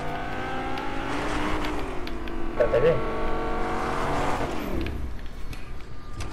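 A car engine in the Fortnite video game hums and revs steadily throughout, with an excited voice briefly speaking over it.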